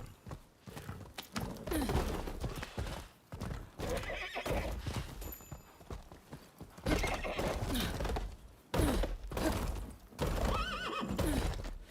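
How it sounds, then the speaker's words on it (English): A horse in a video game gallops with steady, loud clip-clop hoofbeats and repeatedly neighs and whinnies over the running hooves, with no talking. "Come on, horse."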